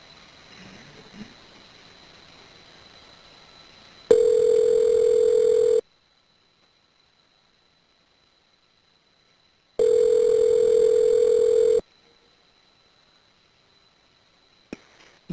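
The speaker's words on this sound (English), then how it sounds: "The number is now being dialed." On an Evercom prison phone call, the line tones after a faint background hum. Two long, steady electronic tone bursts are separated by several seconds of silence, with a brief click at the end.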